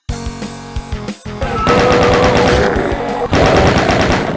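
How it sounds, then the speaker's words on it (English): A chain gun fires in the classic Doom video game, a loud rapid stream of shots after a few single blasts, running continuously with other game sounds mixed in. "I recommend using the chain gun if you have a decent amount of ammo for it."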